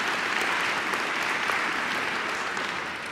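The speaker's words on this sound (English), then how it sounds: "Go ahead, clap for him on that one." An audience at an evening lecture event applauds in a steady, even round of clapping from many hands, moderately loud and uninterrupted.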